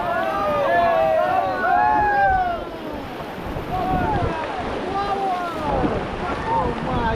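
A river raft paddled through rushing water, with steady splashing and wash close by, wind buffeting the microphone and voices calling out over it.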